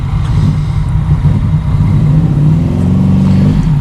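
A Honda Magna V-twin motorcycle engine runs loud and close with a throaty, pulsing rumble that builds into a rev near the end, with no voices over it.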